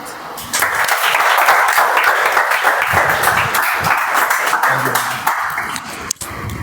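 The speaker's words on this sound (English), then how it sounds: "support the speakers with your warm smiles and claps" A meeting audience applauds the speakers with sustained, dense clapping that carries on for several seconds before thinning out near the end.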